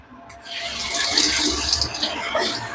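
Tap water runs steadily into a sink as sea fish for a curry is rinsed under it, a continuous close splashing hiss that builds after a brief quiet start.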